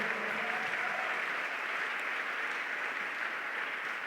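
Church congregation clapping steadily in praise, a dense, even wash of applause filling the room without pause.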